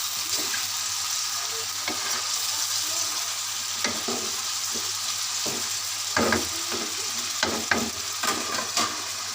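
Tomatoes cook covered in a karahi for Peshawari chicken karahi, a steady bubbling sizzle and hiss up close, punctuated by occasional soft clicks and knocks from the pan or lid, with no speech.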